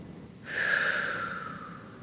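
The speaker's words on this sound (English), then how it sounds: "And you're going to take 3 deep breaths" A single deep breath drawn through the nose, starting abruptly and holding as a long, close, fairly loud airy rush that slowly fades, with no talking.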